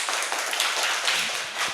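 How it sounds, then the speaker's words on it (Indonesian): A classroom of children clapping together, a brief, dense burst of close applause that carries steadily through to the end. "Tepuk tangan untuk Igo."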